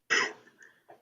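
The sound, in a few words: cough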